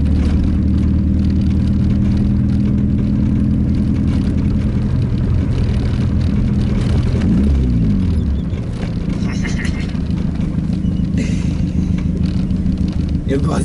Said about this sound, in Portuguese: Eu gosto desse escape